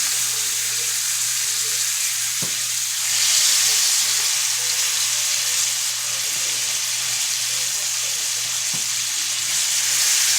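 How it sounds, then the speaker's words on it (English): Beef short ribs sear in butter in a pan, giving a loud steady close sizzle with a couple of faint clinks as they settle. "Like I said, these are beef short ribs. We want them to sear on each side."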